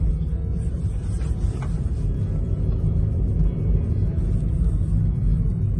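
Steady low rumble inside a moving car, continuous and loud throughout, with faint road and engine hum and no talking.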